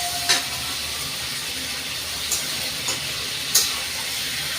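Mutton being sautéed with dried red chillies in a pan, a steady sizzle and hiss running throughout with a few sharp spatula clinks and scrapes scattered across it; no talking.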